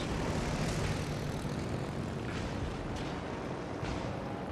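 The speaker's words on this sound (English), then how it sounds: "I do not like these Russian torpedo bombers" Russian torpedo bomber aircraft in the World of Warships Legends video game, a steady broad propeller engine roar with faint distant booms of gunfire underneath.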